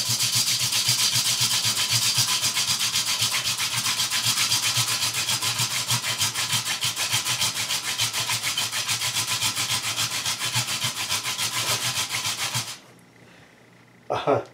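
Steady, rapid scraping friction of a wooden hand drill spindle grinds continuously for about twelve seconds, close and loud, then abruptly stops into near silence with a brief knock at the end.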